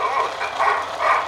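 A small child imitates a dog barking, producing three rhythmic woof-like yips at close range over a low steady background hum.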